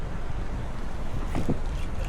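Steady wind buffets the microphone in a constant low roar while someone fishes from a boat in the morning. A faint voice briefly rises above it.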